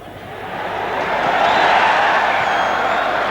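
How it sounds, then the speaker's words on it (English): A large outdoor rugby crowd at Pukekohe, Counties Manukau against France in 1989, roars in a sustained cheer after a goal kick, swelling over the first second and holding loud and broad throughout. "there'll be an almighty cheer goes up around Pukekohe"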